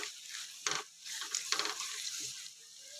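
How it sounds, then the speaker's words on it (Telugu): Tomatoes for a tomato curry fry in a pan with a soft sizzle, broken by a few short bursts of stirring and scraping, close but fairly quiet. "ఇప్పుడైతే ఇది ఒక 5 మినిట్స్ మనం ఇట్లా మంచిగా ఫ్రై చేసుకుందాం."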